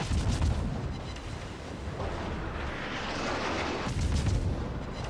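Warship broadside gunfire in a naval video game: heavy booming salvos with deep rumbling blasts, one burst at the start and another near the end, loud and close.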